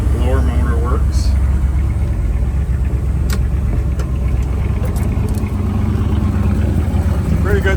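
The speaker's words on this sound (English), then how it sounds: "Pretty good sounding dual exhaust" A 1971 Ford F100 pickup with dual exhaust idles close by, a deep steady rumble that holds evenly throughout while someone talks over it.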